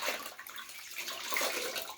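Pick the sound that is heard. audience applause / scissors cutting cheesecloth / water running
water running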